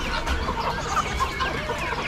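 Chickens, including silkies, cluck continuously at an Amish animal auction, a dense overlapping chorus of soft clucks and calls from several birds nearby.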